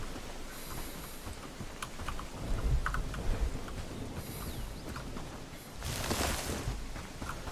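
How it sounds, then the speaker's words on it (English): Steady patter of video game rain with scattered light taps and a brief louder whoosh near the end, continuous and fairly soft throughout. "Definitely can't see in the rain though, because it's blocking my vision"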